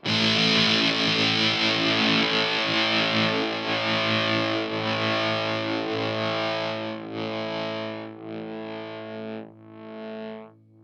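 CROM fuzz guitar pedal at a lower setting, a thick distorted sustained chord that sputters and chokes as it decays, cutting out in a few broken gasps near the end.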